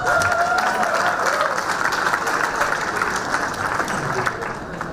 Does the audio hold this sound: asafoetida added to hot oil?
no